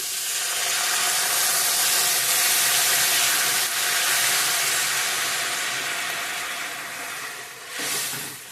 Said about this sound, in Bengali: কখনো কমপ্লিট মশলার সঙ্গে জল অ্যাড করবো গরম জল